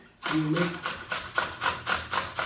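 Cucumber rasped on a simple hand grater for tzatziki, about eight rhythmic scraping strokes in a steady back-and-forth pattern, close and fairly quiet, with no talk.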